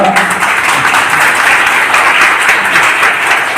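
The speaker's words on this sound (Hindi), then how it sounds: "उनका सबसे पहले हम लोग स्वागत करते हैं तालियों से एक बार" Loud, dense audience applause welcoming the founder at an Indian youth event in Bihar, a continuous roar of many hands clapping close by.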